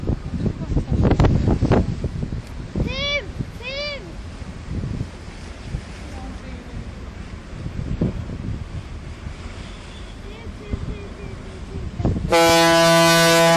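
A large passenger ship's horn blasts loudly and steadily near the end, after a stretch of gusty wind buffeting the microphone, surf-like noise and brief voices and whistles in the background.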